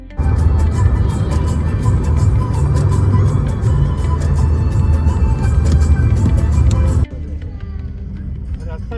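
A car rolls along the road, heard from inside as a loud, steady rumble with low road noise, then drops quieter near the end; people talk inside the car.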